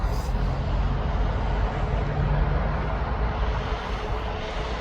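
Beechcraft B200 turboprop on the runway at East Midlands Airport, a steady loud engine drone with broad rumble holding throughout, heard from nearby outdoors.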